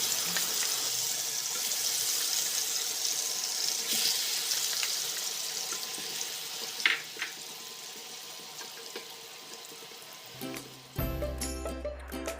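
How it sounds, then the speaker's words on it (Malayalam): Marinated yam (chena) fries in hot coconut oil with a loud, continuous hiss and crackle close by, easing slightly before a brief clatter near the end. "എണ്ണ നന്നായിട്ട് ചൂടായി വരുന്ന സമയത്ത് നമുക്ക് മാരിനേറ്റ് ചെയ്ത് വെച്ചിട്ടുള്ള ചേന ഇതിലേക്ക് ചേർത്ത് കൊടുക്കാം."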